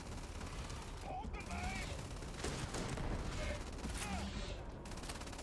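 Sustained gunfire in the Starfield video game, dense overlapping shots rattling steadily through the whole stretch, with a voice talking over the shooting.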